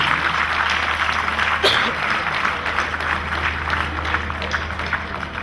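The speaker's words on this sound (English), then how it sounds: "Big round of applause, please." An audience at a Deepavali gathering applauds in a broad, steady wash of clapping from many hands, filling the space evenly for several seconds with no break.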